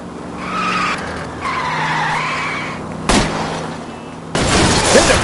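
Car tires skidding and squealing during a chase in the video game L.A. Noire, a sustained loud screech followed by two sharp crash-like bursts, with no talk.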